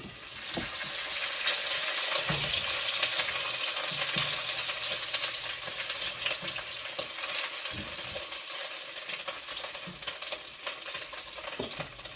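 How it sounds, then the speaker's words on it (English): Bacon frying in a pan for potato soup, sizzling and crackling steadily throughout while a utensil stirs it, with a few soft scraping knocks against the pan. "Giving our bacon a little stir."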